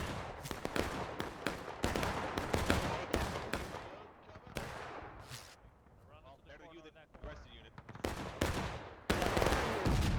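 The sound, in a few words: gunfire in War of Rights video game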